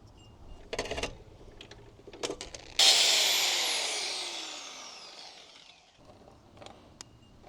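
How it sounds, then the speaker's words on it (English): Grinder cuts into the pin of a CRF300L motorcycle chain in one loud, harsh screech that starts abruptly and slowly fades over about three seconds, framed by quiet clicks and handling of tools before and after. "So I'm going to mark here on my chain. This is the pin that I'm going to grind off."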